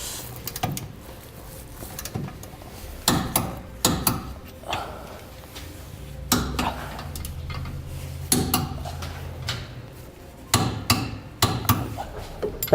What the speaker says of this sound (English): now we'll torque all of our hardware to the amount specified in the instructions